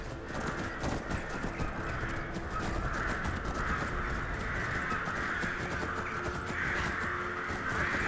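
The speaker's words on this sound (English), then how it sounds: "Listen to the crows." Crows caw repeatedly in a video game, over a dense, steady outdoor ambience with a rumbling low background, the calls moderately loud and continuous throughout.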